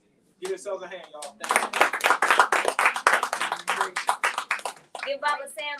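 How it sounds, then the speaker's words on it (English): Small audience at a creative writing session clapping for themselves, a lively round of hands that starts abruptly and stays strong for about four seconds before tapering off, with a voice briefly heard. "Give yourselves a hand, y'all."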